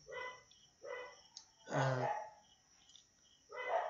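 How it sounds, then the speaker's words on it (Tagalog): Several dogs bark nearby in short bursts with pauses between, one louder and fuller bark in the middle, over a steady faint background hum. "Pasensya na po sa mga aso na napakaingay ngayon sa tabi-tabi"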